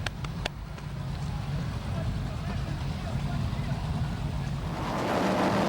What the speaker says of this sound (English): Back to the racing, this time at Corpus Christi, the Allen Samuels East-West Powerboat Shootout.